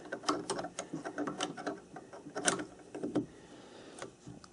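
The jaws of a four-jaw lathe chuck are loosened and tightened by hand, producing a series of close metallic clicks, ratcheting taps and scrapes in an irregular rhythm.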